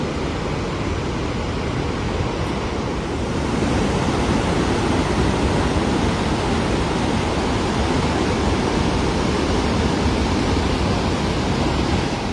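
Victoria Falls roars steadily in the rainy season, a dense, unbroken broadband rush of falling water heard close and loud throughout.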